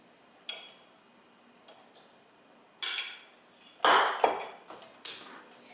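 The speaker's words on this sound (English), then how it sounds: "we're gonna start by sifting the dry ingredients" Dry ingredients for macarons being sifted: scattered soft rustling bursts and light metallic taps of a sieve, coming in irregular clusters at close range with no talking.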